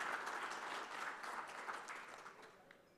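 An audience at a business conclave applauds, a dense wash of many hands clapping that holds steady and then slowly tapers, fairly faint and distant.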